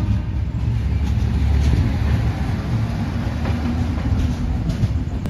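Kakinada Town–Lingampalli Special Express train pulling out of Akividu station at night, a steady low rumble and rattle heard from inside the coach, with faint rhythmic clicks and no voices.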